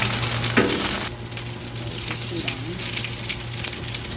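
Uncooked sausages browning in a hot pan give a loud, dense sizzle throughout, with a brief clatter early on as they shift and a low steady hum underneath.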